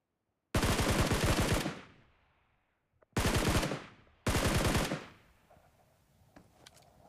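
Three loud bursts of rapid gunfire from a BGMI mobile game match, each volley lasting about a second with short pauses between, followed by faint scattered sounds.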